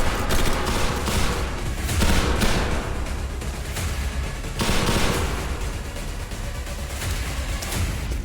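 Continuous rapid gunfire in a shooting video game, dense bursts of shots rolling on at high volume with no pauses throughout.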